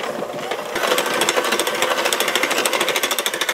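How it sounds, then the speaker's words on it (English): An electric hand mixer whirs steadily as it creams a cup of granulated sugar with a stick of butter, a close, continuous buzzing drone with rhythmic pulsing as the beaters churn through the thick mixture. "we're gonna grab our hand mixer and we're gonna mix together 1 cup of granulated sugar and 1 stick of butter"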